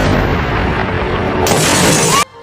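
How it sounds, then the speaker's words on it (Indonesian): A bullet shatters a glass door in an action film scene: a loud, dense crash that brightens into sharp breaking glass partway through, then cuts off abruptly. "Setelah peluru merontokkan pintu kaca"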